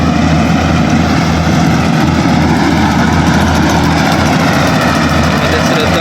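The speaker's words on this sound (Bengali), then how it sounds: "ধান কাটতেছে তার হারভেস্টিং মেশিন দিয়ে" A combine harvester cutting a ripe rice paddy, its engine droning loud and steady throughout with a continuous low rumble and no pauses.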